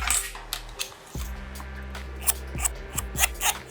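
Scissors snip repeatedly at close range, cutting out finger pieces for a gem holder, with sharp cutting clicks and faint rustling, no voices.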